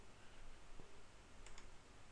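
A few faint, sparse clicks of keys being pressed on a computer keyboard break a quiet background of low room hiss.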